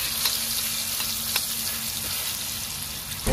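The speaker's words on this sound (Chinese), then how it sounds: "倒了油就直接去煎，小火慢煎，煎至两面金黄就 OK 的" Fish frying in camellia oil in a pan over low heat, a steady close sizzle with faint crackles running throughout.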